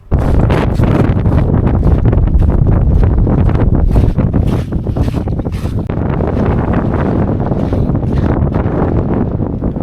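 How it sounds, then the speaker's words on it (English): Strong wind gusts batter the microphone on an exposed volcano summit in Iceland, a loud, constant low roar with heavy buffeting rumble that barely eases throughout. "The wind is so strong that it is extremely difficult to stay here."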